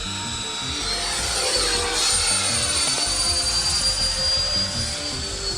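A fast FMS RC model jet with a delta wing streaks past, its high-pitched ducted-fan whine swelling to a peak and then easing as it passes, heard alone and moderately loud.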